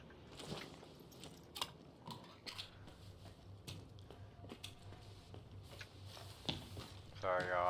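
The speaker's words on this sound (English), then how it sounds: "I was munching." Close, soft munching and chewing of bread by a person, with irregular crunchy bites and wet mouth sounds over several seconds, at times under background game noise.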